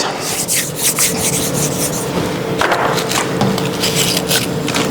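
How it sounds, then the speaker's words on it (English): Hands rubbing over a wooden truck-shaped ornament cutout, a steady close dry friction swishing with rhythmic strokes throughout. "the first thing you do is give it a little rub with your hands"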